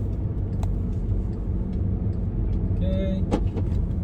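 A car engine rumbles steadily from inside the vehicle, with a few faint clicks and a brief tone, while the car moves slowly out of a driving test centre parking lot in Orillia.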